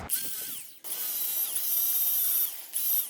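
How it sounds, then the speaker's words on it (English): Angle grinder works a weld blob off metal, a high whine that dips briefly as the disc bites, then rises and steadies again, loud and close with no talk. "I'm gonna grind this off real quick and we're gonna see how uniform it looks underneath."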